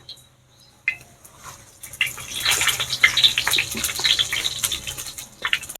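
Dried red chillies, cumin and small bay leaves hit hot oil for ghugni, bursting into a loud, steady crackling sizzle after a few faint pops, close and without voices.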